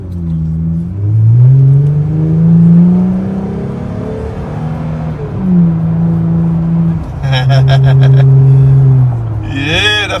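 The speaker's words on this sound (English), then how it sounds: "I want you guys to listen to this exhaust." A 2020 Jeep Gladiator with a Flowmaster dual exhaust revving close by, with several loud rises and falls of engine pitch and a deep hum settling between them, ending in short clicking noises.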